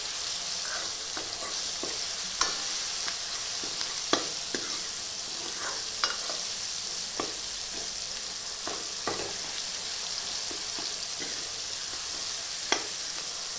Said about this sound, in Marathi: आता फोडणी देऊन घेते